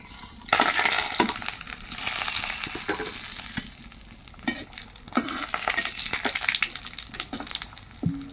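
Bay leaves, black and green cardamom, cloves and cinnamon sizzle and crackle steadily in hot oil, with occasional stirring clinks and scrapes, close and continuous throughout.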